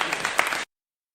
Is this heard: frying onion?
no